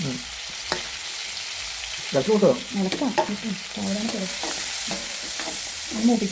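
Sliced onions fry in oil in a pan, a continuous sizzle with repeated stirring and scraping clatters, close and fairly loud, with no talking.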